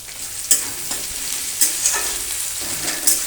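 Sliced onion dropped into hot oil with whole garam masala and bay leaf, sizzling steadily while a spatula stirs and scrapes the pan in several sharp strokes, close and fairly loud, no talking.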